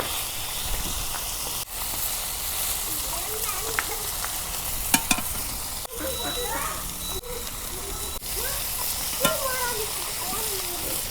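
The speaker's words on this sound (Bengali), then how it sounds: "এই দেখো আমার কি সুন্দর করে মাছ ভাইজা নিচ্ছি, একদম মশমশা" Tilapia fish, scored and coated in spices, frying in a pan over a high gas flame, giving a steady dense sizzle with scattered pops and a few utensil clicks, close and loud throughout.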